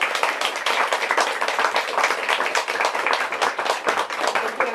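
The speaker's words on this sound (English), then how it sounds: "Let's give another round of applause for Lewis Buzbee." A room full of people clapping at an author book event, a dense steady applause that carries on throughout at a fairly loud level.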